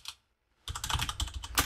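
Rapid clicking of keys on a computer keyboard, a short burst of dense typing after a brief pause, close and clear with no talking.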